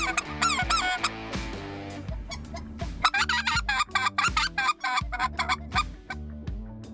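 Geese in flight over Stuttgart call continuously in a loud, overlapping chorus of honks and squeaky cries, dense and rhythmic, with no voices over them.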